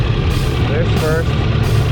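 A vintage 1000cc motorcycle engine idles close by, a steady, smooth low rumble that holds even and loud for the full two seconds.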